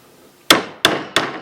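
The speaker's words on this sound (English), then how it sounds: "Now, I just need to square up the corners. With my not sharp enough chisel." A chisel squares up the corners of wood for a screened porch, struck three times in quick succession with sharp, loud, close knocks that ring out briefly.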